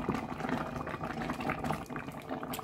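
A pot of Congolese wild broth (bouillon sauvage) simmers near the end of cooking, giving a soft, continuous bubbling and burbling that stays quiet and steady with no talk over it.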